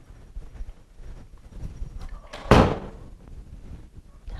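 A door opens and shuts with one sharp, loud knock and rattle in the middle, set against quiet room noise.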